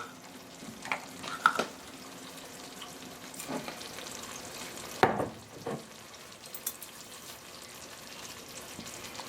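Apples cooking in a pan, giving a soft steady sizzle with occasional stirring scrapes and clatters, fairly quiet and free of talk.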